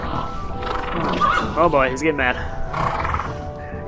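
A horse in the VR fantasy adventure game Shadow Legend neighs and whinnies loudly in a rising, wavering call over constant game background sound, while someone talks over it.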